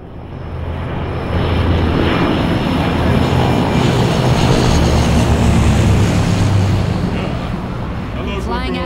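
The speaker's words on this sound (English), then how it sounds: "Working plane means working airport." A propeller airplane engine in the zombie game Left 4 Dead 2 drones loudly and steadily, swelling to a sustained roar through the middle before easing slightly near the end.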